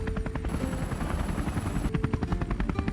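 An Airbus H145M twin-engine military helicopter thumps with fast regular rotor beats and a steady turbine whine, loud and fairly close, with no voices over it.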